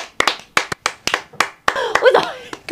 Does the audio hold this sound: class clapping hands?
yes